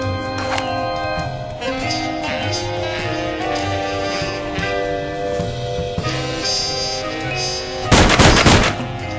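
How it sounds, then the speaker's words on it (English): A gun firing at objects in the Sam & Max Season Two video game, heard over game music, with one sharp, dense burst of gunfire near the end. "When you click on objects, I'll try to shoot them."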